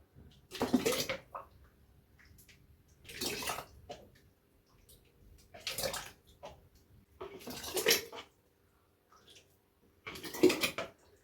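Tomato and hot pepper pickle is ladled into jars in five wet, sloshing pours spaced a couple of seconds apart, with faint clinks of glass and utensil between them, close and without talk.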